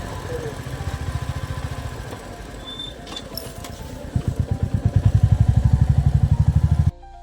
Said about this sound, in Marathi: बाईक पार्क करूया